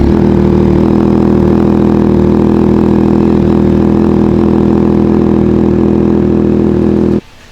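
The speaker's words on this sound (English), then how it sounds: "we're going to start the bike and kind of put your hands around it, see at all the joints, see if anything's leaking" A Yamaha R9 motorcycle engine runs at a steady idle through a Toce full exhaust, loud and close with a constant droning rumble that cuts off abruptly near the end.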